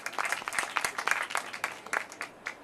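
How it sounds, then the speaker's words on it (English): A round of applause from a crowd at a Father's Day Pledge kickoff event in Pittsburgh, Pennsylvania: many distinct hand claps in a lively, uneven patter, moderately close and loud, with no talking over it. "Let's have a round of applause"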